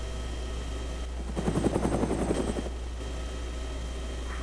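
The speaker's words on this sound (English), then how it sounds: "Oh look, there's a chopper ahead of us." A helicopter in the Arma-based Takistan Life military game passes nearby, its rotor chop swelling into a loud rhythmic thumping for about a second before settling back under a steady engine hum.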